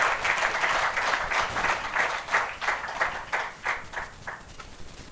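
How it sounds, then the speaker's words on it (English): Audience applause at a shareholders' annual general meeting of an oil palm company, a steady crowd of clapping hands with rhythmic bursts that swell and ease over several seconds, fairly close and full. "Let's give them more round of applause."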